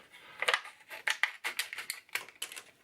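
Several crisp snipping sounds from a pair of scissors, close and quiet, coming in an uneven series of short cuts.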